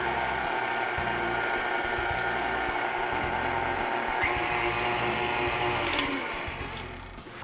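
A steady, loud electric mixer hum and whir runs throughout as ingredients are whisked together until creamy, easing off briefly near the end with a small clatter.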